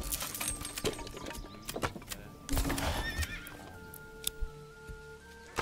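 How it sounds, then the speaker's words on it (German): A horse whinnies in the Manor Lords medieval village-building game, with clip-clop hoofbeats and scattered clanks; loud neighing calls rise over a quiet background. "Pferd folgt."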